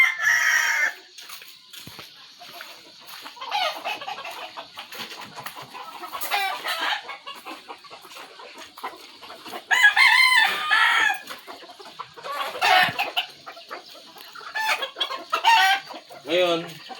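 Chickens cluck and a rooster crows several times in bursts, fairly close, with a steady background hum between calls.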